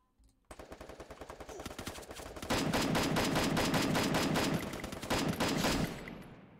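Automatic gunfire in the battle-royale game Free Fire, a fast rattling burst that starts after a short silence, grows louder and holds a steady rhythm before tapering off.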